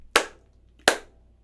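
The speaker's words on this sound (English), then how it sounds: "it's coming from our hands when we clap" Two sharp, separate hand claps, close and crisp, spaced under a second apart and standing alone against quiet, each struck in place of a sung word.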